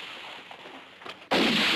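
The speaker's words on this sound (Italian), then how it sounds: "Ho sentito degli spari." Gunfire in a 1969 Zorro adventure film set at the court of England bursts out suddenly as one loud, sharp, sustained blast after a quiet stretch of faint room tone.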